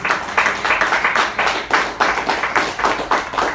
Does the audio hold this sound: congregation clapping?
yes